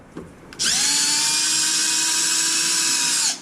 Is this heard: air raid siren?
no